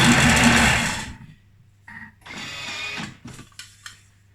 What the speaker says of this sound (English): Thermomix blender, put to kind of max line, and we're gonna blend until it's the right kind of puree consistency.